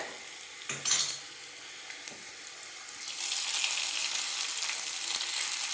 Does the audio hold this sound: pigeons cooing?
no